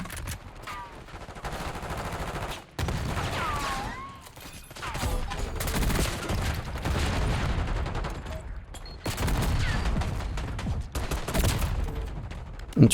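Rapid gunfire from a weapon in Black Ops 6, dense automatic bursts running nearly the whole time with brief pauses, loud and close, with faint background game sounds.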